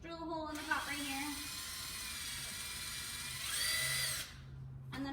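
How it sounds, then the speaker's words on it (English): A power drill bores a hole through a jar lid, its steady high whine running for several seconds and then stopping, with a brief pitch shift near the end. "I'm gonna drill a hole in the top right here."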